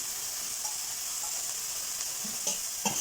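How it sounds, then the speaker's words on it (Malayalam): Chopped mulberry leaves with salt are stirred slowly in a hot pan for a stir-fry, with a soft continuous sizzle and a few gentle scrapes near the end. "എപ്പോഴും പറണ്ടുന്ന സൗണ്ടാണ്. ഇതിനെ സ്ലോ ആയിട്ടാണ് ഇളക്കി കൊടുക്കുന്നത്."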